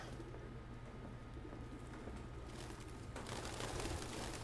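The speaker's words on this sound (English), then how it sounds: "That's a lot of birds." Soft cooing of pigeons or doves in the video game Detroit: Become Human, over a constant low hum and background noise, quiet and somewhat distant.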